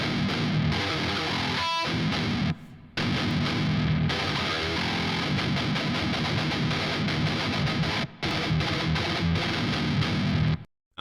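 Heavily distorted metal guitar hammers out a complex riff of tight palm-muted chugs, loud and dense, broken by a few abrupt stops and short silent gaps before the riff snaps back in.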